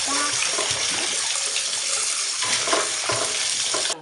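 Bamboo shoots for a Thai roasted-shoot dish being rinsed under running water, a steady splashing rush with scattered knocks and stirring sounds, close and continuous without speech.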